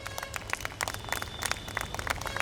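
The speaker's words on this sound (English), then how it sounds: "big round of applause" An audience applauds at a literature festival, a brief patter of scattered claps at moderate distance, fairly faint.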